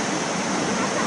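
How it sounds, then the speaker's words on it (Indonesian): A clear river near the Curug waterfall in Bogor rushes in a loud, continuous broadband roar, dense and close with no break. "Ini deh sungai."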